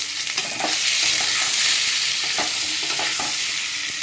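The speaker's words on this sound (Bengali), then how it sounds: "আমগুলোকে ছেড়ে দিলাম, একটুখানি নাড়িয়ে নেব" Mango pieces frying with turmeric and Kashmiri red chili powder for a sweet-sour mango pickle, a loud continuous sizzle broken by several scraping stirs of a spoon against the pan, close up with no talk.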